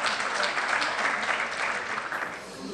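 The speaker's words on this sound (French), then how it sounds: "Je vais vous demander de l'applaudir quand même" A conference audience at an economic event applauds with a dense, steady round of clapping that fills the whole stretch and eases slightly toward the end.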